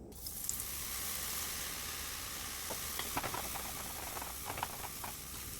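Gram flour batter droplets fry in hot oil as boondi for ladoo, a dense, steady close-up sizzle with scattered light crackles and pops running throughout.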